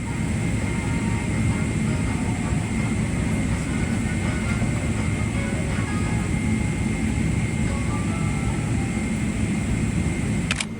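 Cathay Pacific airliner taxiing, a steady loud broadband cabin roar of engines and rolling noise heard from inside the cabin, continuous throughout.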